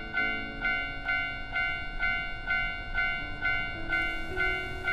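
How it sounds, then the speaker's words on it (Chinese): A train passes on railway tracks at a crossing while a level-crossing bell rings with steady, evenly spaced tones above a low rumble. "前方的铁轨正在过车"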